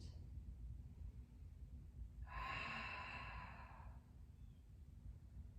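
A single slow breath in and out, soft and close, during a seated yoga prayer twist with the elbow hooked to the opposite thigh. Quiet room hum surrounds it.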